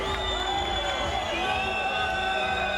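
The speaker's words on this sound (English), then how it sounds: "Crowd ecstatic here." Crowd cheering and whooping at a fight between Alan McKenzie and Bad Boy Bez, a steady loud roar of many voices filling the hall throughout, with shouts rising above the din.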